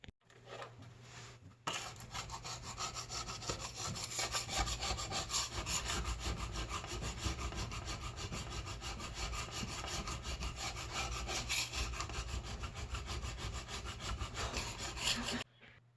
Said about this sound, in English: I've been scraping some of this dried on food off or whatever will come up